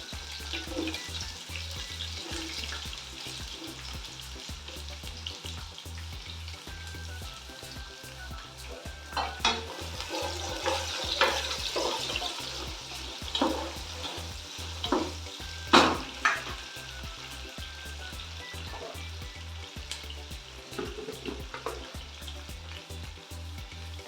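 Sliced onions with three slit green chillies sauté in a pan for chicken biryani, a continuous low sizzle broken by repeated scraping stirs and occasional sharper clinks, with no voice present.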